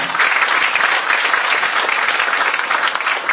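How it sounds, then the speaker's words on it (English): Steady, loud audience applause for Senator Alan Peter Cayetano at a CCAP event in Cebu, dense clapping sustained throughout with no pauses. "please give a big round of applause to Honorable Senator Alan Peter Cayetano"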